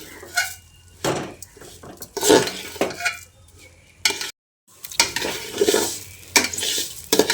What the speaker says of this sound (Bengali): চালটা দিয়ে কিছুক্ষণ ঘিয়ের সঙ্গে ভেজে নিচ্ছি।